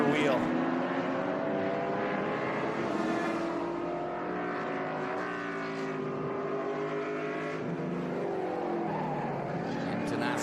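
A Ford Escort race car at speed on the VIR circuit during a SpeedTour race, its engine a steady, loud, high-revving drone that shifts in pitch throughout and never drops out.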